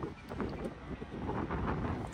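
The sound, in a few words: wind blowing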